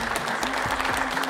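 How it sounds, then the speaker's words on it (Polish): A dense burst of applause from a crowd, steady and fairly loud, with a faint voice underneath. "Wielkie brawa!"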